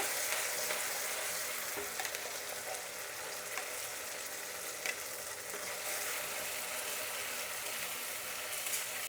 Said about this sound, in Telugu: ఈ మసాలా పచ్చివాసన పోయేదాకా బాగా వేయించుకోవాలండి